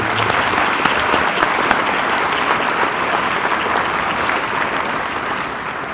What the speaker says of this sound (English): Can we please give them a round of applause for this year?